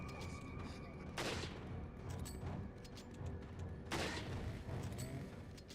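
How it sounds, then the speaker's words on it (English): Two loud, sharp shots from a bolt-action sniper rifle in the video game Resident Evil 4, spaced a few seconds apart over a dense game soundtrack and background noise. "the sniper rifle is really good."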